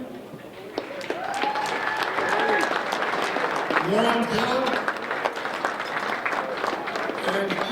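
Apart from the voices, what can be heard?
audience applause for absent Hall of Famers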